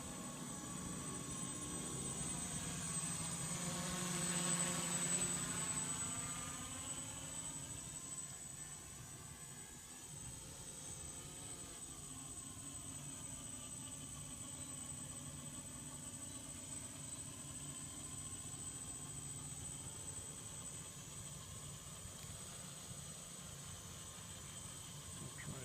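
A quadcopter drone flies steadily nearby, a continuous buzzing whine of small rotors that swells loudest in the first few seconds, with a faint high electronic tone on top and no talk.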